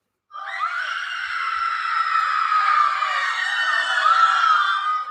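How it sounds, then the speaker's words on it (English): Halloween sound effect of a crowd screaming: a dense, continuous wall of many high-pitched shrieking voices that starts abruptly and holds at steady loudness for several seconds. "crowd scream."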